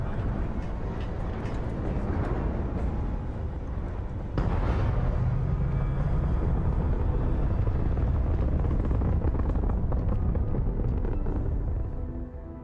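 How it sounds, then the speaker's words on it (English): A spaceship lifts off in the game Starfield with a heavy, continuous rumbling roar that surges louder partway through and holds steady until it tapers at the end. "All crew prepare for takeoff."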